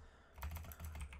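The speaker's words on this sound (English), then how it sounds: "that was my weird Razer keyboard doing something weird" Quiet, rapid clicking of keys being struck on a Razer computer keyboard, a short burst of typing close to the microphone.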